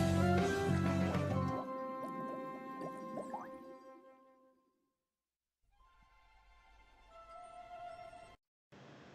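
Nickelodeon Movies Bubbles logo from the 2004 SpongeBob movie: watery bubbling and squishy popping tones over musical notes, fading out, then a brief pause before more bubbly notes resume, no talk.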